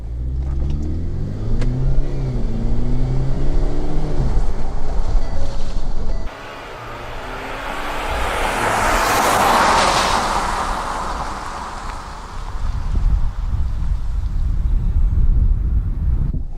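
A car travelling at about 40 miles per hour is brought to a stop with its electronic parking brake. A steady engine and road rumble cuts off abruptly, then broadband wind and tire noise swells and fades before a low rumble returns.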